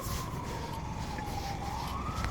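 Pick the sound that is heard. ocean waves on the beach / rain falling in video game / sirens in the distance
sirens in the distance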